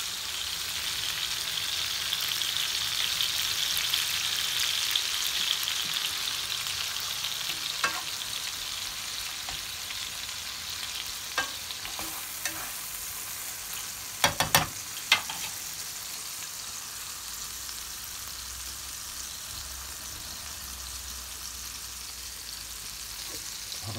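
Green plantain frying in oil in a pan over low heat gives a steady, close sizzle and crackle, with a few sharper pops and clicks partway through.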